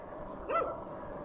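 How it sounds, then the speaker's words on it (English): A dog gives a single short bark, moderately distant and not much louder than the steady wind and road hiss of a fat-tire step-through e-bike rolling at about nine miles an hour. "There's a dog."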